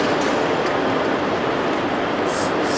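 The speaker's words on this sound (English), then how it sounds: "I'm on a slow train because it's cheaper" Train rumbling at Frankfurt's train station, a steady dense roar of rail noise with faint higher hisses and squeals near the end.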